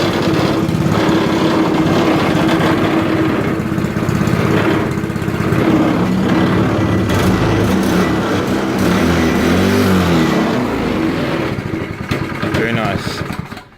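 A custom go-kart's freshly mounted small engine runs on its first test, a continuous buzzing, sputtering drone close by that holds steady before tapering off at the end, with people talking over it.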